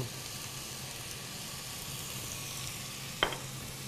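Vegetables stir-fry in a hot pan for chicken noodle soup, a steady close sizzle throughout with one sharp utensil clink near the end, no talking.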